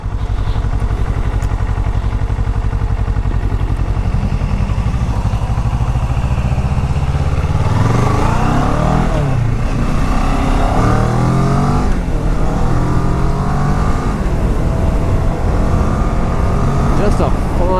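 A 2015 Kawasaki Ninja 650R motorcycle rides with a steady engine drone and rising, falling revs through gear changes, loud and close throughout, with wind noise over it.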